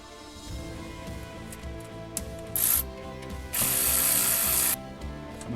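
Ratchet wrench tightening thermostat housing bolts on a Ford 5.4L V8, with close, loud bursts of rapid clicking, one short and one longer run, between quieter handling noises.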